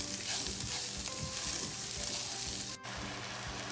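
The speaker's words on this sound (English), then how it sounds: "you're going to add your arborio rice to the pan just like this. Then you're going to give it about a minute and just mix it in with the onions" Arborio rice crackles and sizzles loudly in a pan with onions and garlic as it is stirred through, a dense close hiss with light scraping that breaks off briefly near the end.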